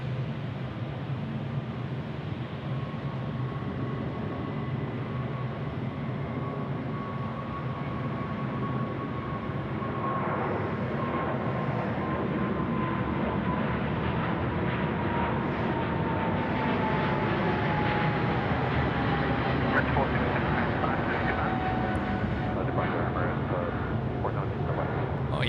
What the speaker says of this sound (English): our Emirates 417, 777 now rolling 3-4 left.